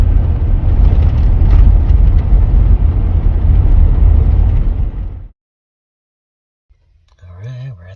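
Steady in-cabin car drive noise, a loud continuous low rumble for about five seconds that suddenly cuts to near silence, followed by a brief voice near the end.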